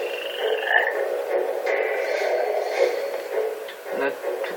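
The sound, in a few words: toads croaking in Final Fantasy XIII video game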